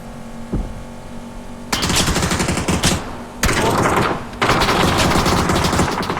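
Loud, close bursts of automatic gunfire in the PUBG battle royale game, long sustained volleys separated by short breaks, with no voices over them.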